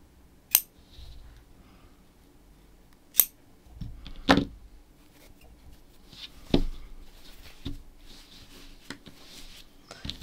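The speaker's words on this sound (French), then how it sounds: "on coupe le fil et on le cache." Scissors snip crochet yarn, several sharp, quiet close clicks spaced a second or two apart amid faint handling rustle.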